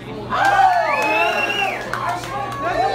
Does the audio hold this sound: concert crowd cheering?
yes